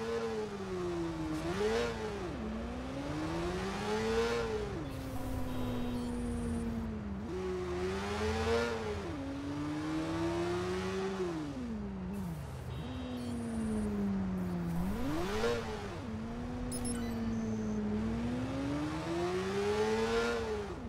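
Motorcycle engine in the video game Watch Dogs revs repeatedly, pitch climbing and dropping through gear shifts in a steady cycle, loud and close, with no speech.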